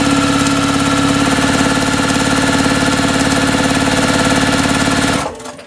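Sewing machine stitching along diagonal lines on quilt fabric, a loud steady rapid mechanical hum and rattle running continuously before stopping abruptly at the end.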